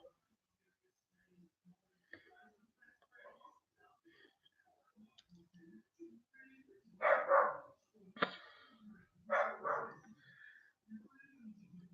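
A small dog gives a few short, loud barks and yips in the middle of the clip, with low growling and quiet people talking before and between them.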